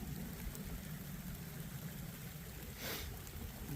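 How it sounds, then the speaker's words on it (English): Light rain patters softly and steadily on a forest campsite in a quiet outdoor setting, faint and continuous, with a brief louder rustle near the end. "a little bit of rain happening"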